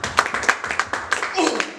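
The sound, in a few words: congregation applause in church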